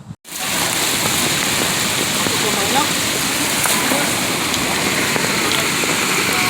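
Heavy rain and rushing floodwater during typhoon Opong in the Philippines make a loud, constant roaring wash that fills the scene after a brief quiet start, with no clear voices.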